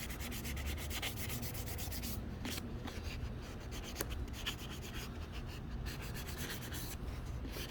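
Plastic taillight lens on a 1996 GMC Yukon being hand sanded in a small crevice, a steady close scratchy rubbing that runs without a break and with no talk.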